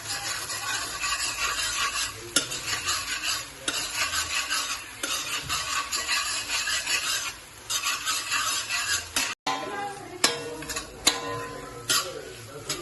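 Steady sizzling of eggs frying in a pan for noodles, with a spoon stirring and scraping against the metal and a few sharp taps near the end.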